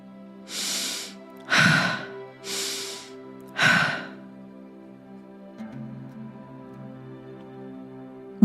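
Slow, deep breaths during a breathwork exercise: four long, loud airy inhales and exhales in a steady rhythm, close by, followed by a quieter stretch with a soft background tone.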